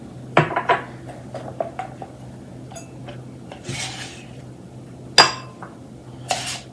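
A utensil clinks and scrapes against a bowl while sour cream, Greek yogurt, olive oil, minced garlic and dill are stirred together for tzatziki, giving a scattered run of sharp taps over a low steady hum, with no talking.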